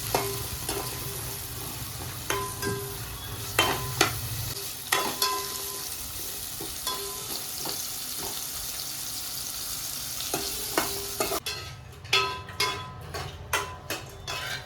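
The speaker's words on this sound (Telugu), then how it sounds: "నూనె వేసుకొని బాగా వేయించుకోవాలి కలర్ వచ్చేటట్టుగా." Pieces fry in oil in a pot for a fish and bottle gourd curry, with a steady sizzle broken by repeated stirring scrapes and clacks, growing sharper and more rhythmic near the end.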